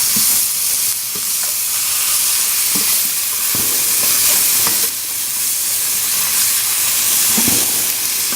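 Food sizzles and hisses steadily in a pan over a hot campfire, with a few louder scraping clicks from stirring scattered throughout.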